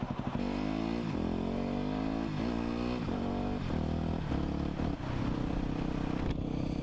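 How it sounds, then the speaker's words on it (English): A Yamaha WR250X motorcycle fitted with a Two Brothers carbon M7 race exhaust accelerates hard through its gears, the engine note climbing and dropping at each quick shift, loud and close throughout. "we just went through all 6 gears there in a matter of seconds"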